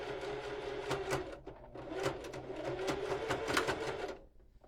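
A sewing machine back stitches over a bulky strap on a water bottle holder, a close, steady run of rapid needle clatter that breaks briefly once before stopping.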